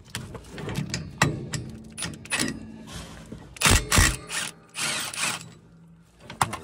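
Ratchet wrench working a 1/2 inch bolt loose beneath a Bolens TroyBilt riding mower, heard as scattered close clicks and clunks with bursts of metallic rasping, no voices.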